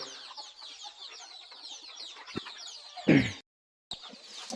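Free-range country chickens at a village poultry farm cluck softly in quick, scattered calls close by, with a louder squawk near the end before a short gap.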